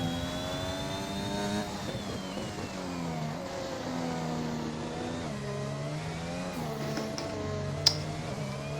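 Race cars circling a track in a racing video game while warming their tyres, a continuous close engine note rising and dipping in pitch with a faint second car underneath and one sharp click near the end.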